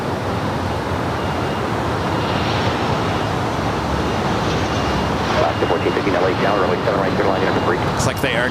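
A British Airways airliner taxiing at LAX gives off a loud, continuous engine roar that swells slightly toward the end, with a voice briefly heard over it.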